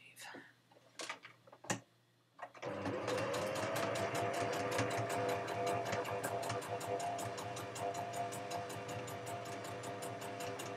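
A home sewing machine stitching fabric, starting after a few brief handling knocks and then running steadily and loudly in a fast, even mechanical rhythm to the end.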